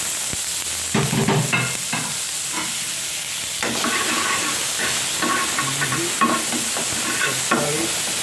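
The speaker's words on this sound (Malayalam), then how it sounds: "പൊട്ടിയതിന് ശേഷം ഇതെല്ലാം കൂടി മിക്സ് ചെയ്യുന്നു." Tomato and onion with mustard seeds stirred in a hot pan for a green peas curry, a continuous loud sizzle and hiss broken by repeated scraping and clattering strokes of the spoon, with no talk.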